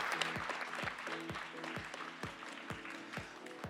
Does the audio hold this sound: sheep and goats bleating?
no